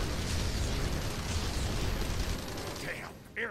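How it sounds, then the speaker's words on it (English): Explosions in the Marvel Ultimate Alliance 2 video game: a loud, continuous roar of blasts and rumbling debris that thins out near the end, with faint brief voice sounds at the close. "Explosions, explosions."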